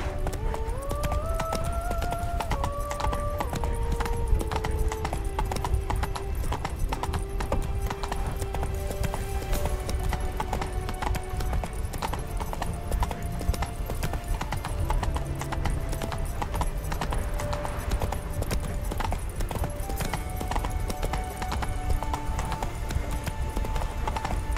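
Hoofbeats of the horse Roach galloping in The Witcher 3, a steady rapid clip-clop running throughout over game music and ambience, with a brief whinny.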